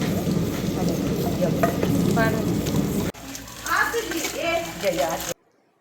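Close sizzling and frying of spices and mint in a pan for chicken curry, with occasional stirring, briefly interrupted, then softer crackling with faint voices before it cuts off.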